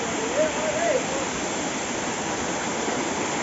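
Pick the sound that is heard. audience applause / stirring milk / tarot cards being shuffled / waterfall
waterfall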